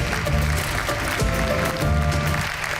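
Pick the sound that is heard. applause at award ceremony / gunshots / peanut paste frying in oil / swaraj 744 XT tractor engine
applause at award ceremony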